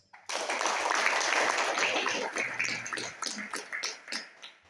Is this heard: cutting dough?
no